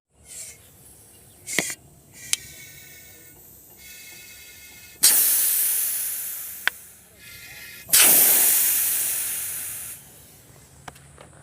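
Pressurized petroleum gas hissing into a container, with two loud sharp bursts of hiss that each fade over a couple of seconds, plus a few brief clicks and softer hisses between.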